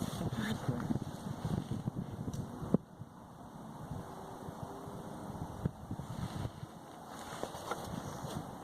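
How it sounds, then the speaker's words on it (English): Wind gusting outdoors, a continuous rumbling buffet against the microphone, stronger at first and then settling into a steady, moderately faint roar with occasional thumps. "every time I go to smoke, the wind kicks up"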